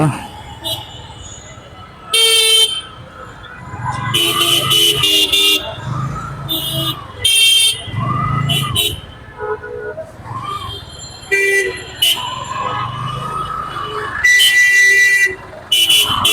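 Several car horns honk repeatedly in busy street traffic at Fakirapool, backed up behind a rickshaw stopped mid-road, short and long blasts overlapping, with a voice talking over the engine rumble.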